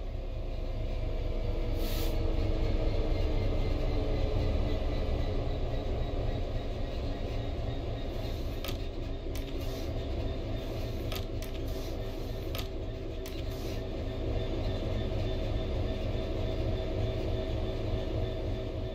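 Train in Train Sim World 3 coasting on level ground with the throttle closed, a steady low rumble of wheels on rail with occasional faint clicks and ticks, continuous and even throughout.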